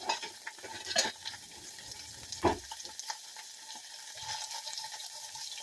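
Flounder and zucchini squash sizzle and crackle in a hot pan, with scattered clinks and scrapes of tongs stirring.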